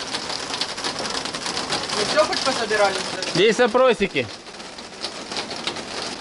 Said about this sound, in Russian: А то я так и знал, что начнется дождь.